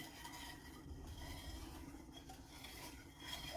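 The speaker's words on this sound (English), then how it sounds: "So I'm going to stir the oil" A spoon stirs chili oil in a pot while birria is being made, soft continuous scraping and clinking against the metal at low volume.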